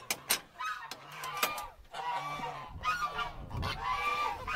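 Several geese honk loudly and repeatedly in a farm pen on a frozen morning, overlapping calls close by in bursts with scuffling sounds between them.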